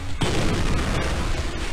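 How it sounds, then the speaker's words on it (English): Grenade explosions in the Spider-Man video game: a sharp blast bursts in after a brief pause and is followed by a dense, rumbling crackle of repeated detonations that holds at full loudness throughout. "I also as well like the skull and the grenade explosions there."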